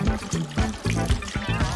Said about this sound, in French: Ensuite, je n'ai plus qu'à la rincer.